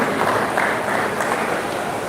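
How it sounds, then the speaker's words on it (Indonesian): A crowd at a Batak youth community anniversary event claps for the chairman, a continuous, even patter of applause with faint voices mixed in. "Mari kita berikan tepuk tangan kepada Bapak Ketua Osmar Hutajulu"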